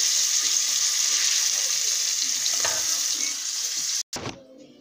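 Meat sizzles and fries in a hot pan with water cooking off, a steady close hiss that runs continuously, briefly cut by a short clatter and break near the end.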